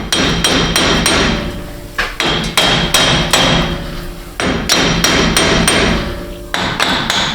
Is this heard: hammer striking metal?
yes